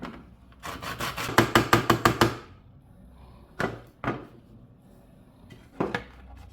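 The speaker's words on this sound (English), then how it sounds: "next, I'm going to be grating my nutmeg" Whole nutmeg grated by hand against a metal grater for a cake, a quick burst of rapid rasping strokes followed by a few separate single scrapes with pauses between, close and crisp.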